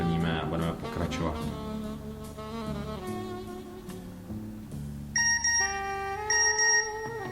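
A phone chimes an SMS text message notification, a short series of clear bright tones near the end, heard over continuous background music.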